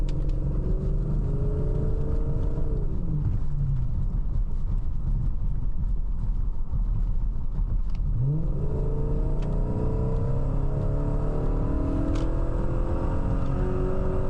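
A BMW E38 750i V12 luxury sedan accelerates to overtake. A steady, loud engine roar rises in pitch, eases off, then rises again as the car gathers speed. There is no talk over it.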